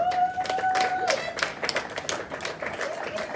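Scattered applause at a book launch event welcoming a singer, moderately close with individual claps audible, a held tone in the first second and some voices mixed in.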